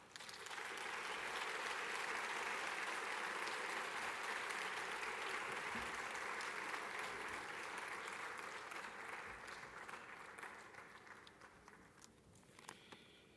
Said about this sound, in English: Let's give another round of applause for the second annual State of the University Address.